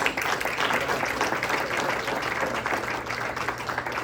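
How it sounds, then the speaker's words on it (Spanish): A church congregation applauds during a Sunday service, a dense, steady wash of clapping that holds at an even loudness for the full four seconds. "Un aplauso al Rey de Reyes y Señor de Señores."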